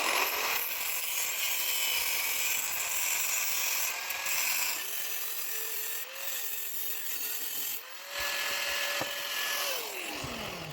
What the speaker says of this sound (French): il va falloir que je lime encore les petits bouts là qui restent